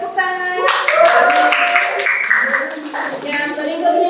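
Schoolchildren in a classroom clap together in a burst of quick, overlapping hand claps, with children's voices heard before and after the clapping.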